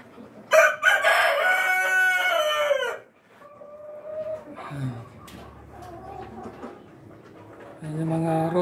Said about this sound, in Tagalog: Yan yung rooster natin.